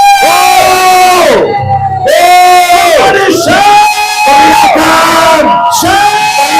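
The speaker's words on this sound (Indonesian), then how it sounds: "Give them shout." A church congregation at a healing service shouts and cheers together in loud, sustained bursts of overlapping yells and cries, with brief gaps between waves, close and energetic.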